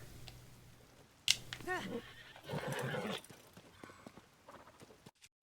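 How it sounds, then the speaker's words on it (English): A horse in the video game Tears of the Kingdom neighing while hitched to a cart, a loud, shaky whinny rising and falling, followed by snorts and a few hoof clops, close by with a voice speaking over part of it. "My horse is freaking out a little bit."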